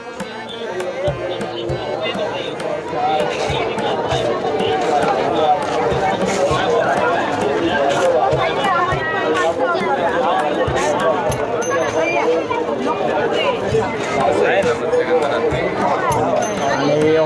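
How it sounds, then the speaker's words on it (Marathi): A dense crowd fills the night fair at the Bharadi Devi temple in Anganewadi, a steady loud babble of many voices and movement that goes on throughout, with someone talking over it. "तर गर्दी आता होऊ लागली आहे बऱ्यापैकी"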